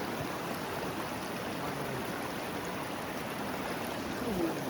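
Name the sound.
fresh glacier water stream flowing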